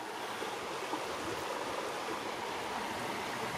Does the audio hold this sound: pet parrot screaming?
no